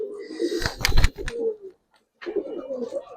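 Giribaz coloured pigeons coo in a low, throaty burst nearby, with sharp flutter or handling noises mixed in, then a brief pause before another soft cooing phrase.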